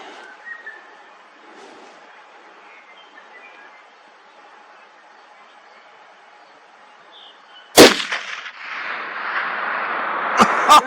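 A .308 Winchester rifle with a 16-inch barrel fires a single sharp, loud shot at a target 1115 yards away after a quiet outdoor lull, followed by a lingering rumble and a faint later echo.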